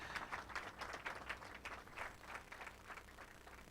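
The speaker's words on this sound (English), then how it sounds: "A round of applause to him as he comes." A graduation audience applauds as a speaker walks to the stage, the clapping steady and fairly faint, heard from some distance.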